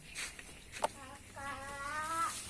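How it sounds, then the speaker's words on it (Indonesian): Chickens roam a village yard early in the morning, giving a faint cluck and a short drawn-out call against quiet background noise. "Di sini banyak ayam juga ya, guys."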